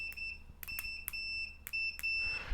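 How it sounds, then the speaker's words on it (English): A multimeter in continuity mode beeps repeatedly on a repair bench as the probes touch a shorted capacitor on a dropped iPhone 13 logic board, giving a series of short, sharp, clear electronic tones close up with no talking. "Meter is set to beep mode."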